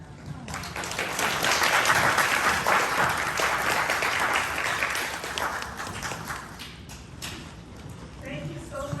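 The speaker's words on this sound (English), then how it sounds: "Another round of applause for Cameron" An audience applauds for Cameron at a ceremony, a dense sustained clapping that swells and then gradually thins out over several seconds before fading toward the end.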